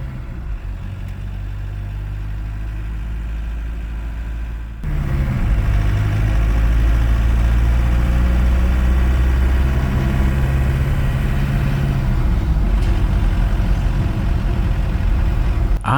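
A small Volkswagen diesel engine swapped into a Chevy S-10 pickup idles steadily with a deep, rumbling low drone, close and loud, growing heavier partway through and continuing alone without talk.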